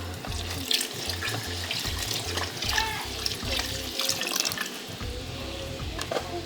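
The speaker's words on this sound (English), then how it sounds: "as it breaks down, I keep adding more water" Water pouring from a tap into a pot of palm nut soup being cooked alongside plantain fufu, with a steady close splashing stream and dripping, no voices.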